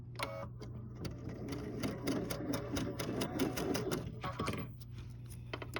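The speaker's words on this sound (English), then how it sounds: "I'm going to go ahead and sew both of these just so you can see how they come out" Sewing machine chain-piecing fabric pieces for a Dresden quilt: a quick, close mechanical rattle of needle strokes runs in bursts, starting and stopping between short pauses.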